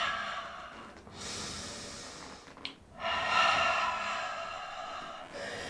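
During a reformer Pilates exercise, long, audible breaths follow one another: a steady exhale, a brief pause with a soft snort, then a deep, strong breath, all close and with no talking.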